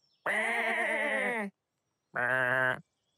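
Two loud, close sheep bleats, a long wavering call followed after a pause by a shorter one, heard alone with no talk.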